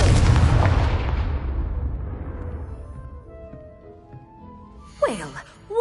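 A loud blasting-spell explosion from a Harry Potter video game bursts at once and rumbles away over several seconds, followed by swirling magical whooshes near the end.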